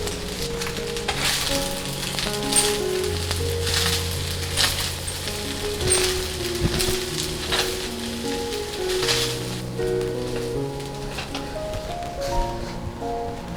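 Shrimp and egg sizzle in a pan for pineapple fried rice, a steady close crackle with occasional stirring scrapes, and soft background music runs underneath throughout.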